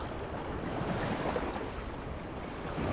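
Strong wind and surf pounding a shore just after typhoon Trising, with rough waves. A steady, loud wash of noise fills the whole stretch, with gusting wind buffeting the microphone and no voices.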